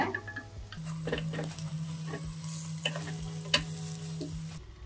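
Bonda batter balls fry in oil for Andhra mor kuzhambu, a steady close sizzle and bubbling with a few light stirring taps and scrapes.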